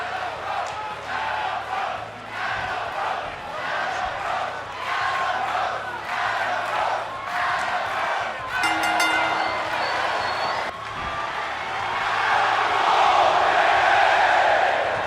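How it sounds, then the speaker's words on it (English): Adam Cole crowd chant in WWE 2K23 at the start of a wrestling match: a large arena crowd roars and chants in steady rhythmic swells, growing louder toward the end, with a brief bright effect midway. "this version of Cole includes an Adam Cole crowd chant when the match begins"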